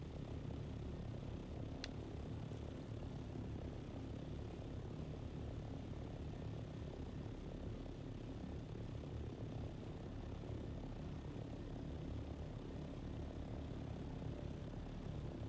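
An aircraft flying in the video game Dune: Awakening, a constant droning engine hum with a steady propeller-like whir, even and moderately faint throughout, with one brief faint click early on and no talking.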